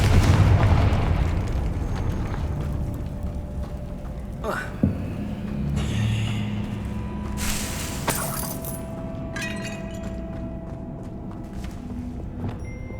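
A Confringo fire-blast spell in the Hogwarts Legacy video game bursts into sharp explosive booms over a dense, loud wash of game sound, with a voice talking through it.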